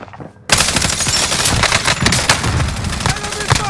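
Gunfire in Call of Duty Modern Warfare, loud sustained automatic bursts erupting suddenly after a brief quiet start and continuing densely, with game voice lines mixed in.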